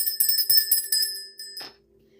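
A small bell rung several times in quick succession during a spiritual ritual, bright ringing tones with a sustained shimmer that decays into quiet near the end.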